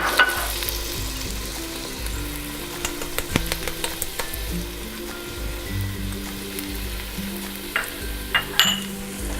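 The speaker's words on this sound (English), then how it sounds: "I already chopped up some fresh tomatoes and shallots and garlic, which I'm gonna add to the oil." Chopped fresh tomatoes, shallots and garlic sizzle in hot olive oil in a pan, a continuous close crackle with scattered sharp pops and a few stirring clinks; no one speaks.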